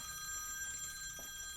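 Old-style telephone bell ringing quietly over a low hum, a steady tone running through the clip with a brief change in the middle.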